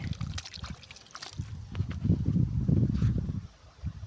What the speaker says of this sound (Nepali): यो चाहिँ हाम्रो बुढी खोला है